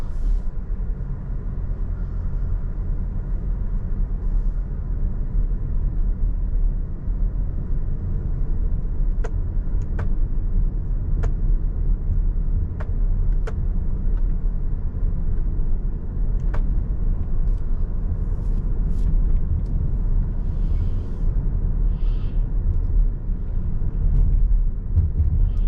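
A Lexus RX350h drives at night, heard from inside the cabin as a steady, low road rumble and tyre hum that stays constant with no talking.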